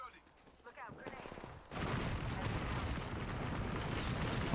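Gunfire in the Apex Legends video game, a dense, sustained burst of loud shots and impacts that begins abruptly and continues steadily, with voice chat faintly underneath.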